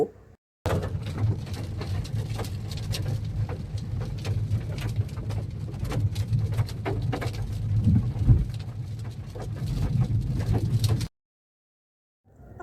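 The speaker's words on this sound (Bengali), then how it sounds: "ঝোড়ো হাওয়া দিতে দিতে বজ্র বিদ্যুৎ সহকারে বৃষ্টি শুরু হয়ে গেল" Steady rain pours down with a dense hiss during a gusty thunderstorm at Ajodhya Hills, Purulia, a low rumble of thunder swelling near the end, before the sound cuts off abruptly.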